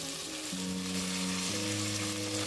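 Potatoes and cut beans for a vegetable kurma fry in a pan, giving a dense, steady sizzle close by. Low hum tones shift underneath it.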